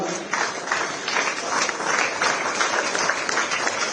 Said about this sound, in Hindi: एक बार आप सबकी जोरदार तालियां।